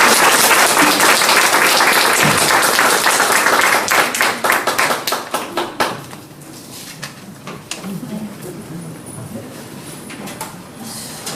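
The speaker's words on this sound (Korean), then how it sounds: "다시 한번 큰 박수 부탁드립니다." An audience at a library humanities lecture applauds loudly, dense clapping that thins into scattered claps and fades out over several seconds.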